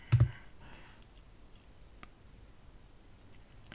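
Several sharp computer mouse clicks, one near the start, one about midway and another at the very end, faint and isolated against a quiet background.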